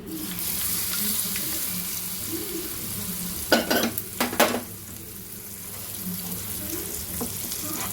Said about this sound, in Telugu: ఇప్పుడు ఉడికిపోయిన గోంగూర పచ్చడిలో తాలింపు వేసేసుకున్నాను